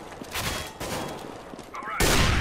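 Rapid gunshots crack in CS:GO during a competitive match, a dense burst of rifle fire ending with one loud, close shot, while a voice talks underneath.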